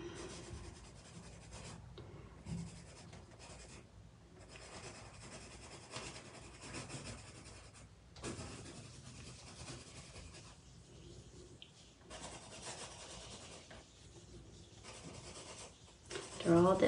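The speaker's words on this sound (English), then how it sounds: "So I'm gonna write it in script" A pen scratches connected script into a sketchbook, quiet irregular strokes of soft scraping close by, continuing through the whole stretch with small pauses between words.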